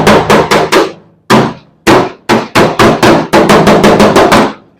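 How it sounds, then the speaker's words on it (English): Sharp hammer blows off the dolly work a dent out of a car body panel, striking in quick bursts of three to five with short pauses between, loud and close. "do a hammer off the dolly"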